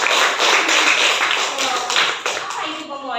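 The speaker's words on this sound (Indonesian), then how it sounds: "tepuk tangan 2 kali." A classroom of students claps together in a dense, fairly loud burst of hand clapping that fills the whole moment and fades slightly at the end.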